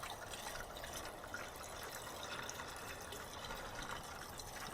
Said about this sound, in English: dump some water into this truck who very much needs it